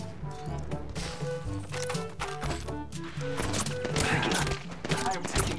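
Gunfire in an Apex Legends match: rapid bursts of shots crackle and thump in clusters over game music and effects, with a voice talking over the action.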